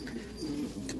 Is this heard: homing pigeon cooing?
yes